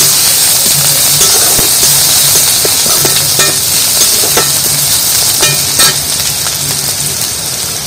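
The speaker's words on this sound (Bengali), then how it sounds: "কাঁচা রসুনটা একটু ভালো করে ভেজে নেব।" Raw crushed garlic sizzles loudly in hot oil in a pan after browned onions, a dense continuous crackle with occasional stirring clicks and no talking.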